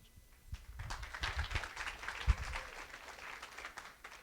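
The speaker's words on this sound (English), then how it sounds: "I feel like Louis got a much louder applause than I did." A college flex-day audience gives faint, diffuse applause that swells and holds steady for several seconds at a distance.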